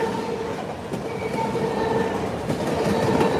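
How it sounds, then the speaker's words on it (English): A BC Rail local freight train rolls past close by, a loud steady rumble of wagons with rhythmic wheel clatter and faint metallic squeal building slightly toward the end. "And the end of the train here."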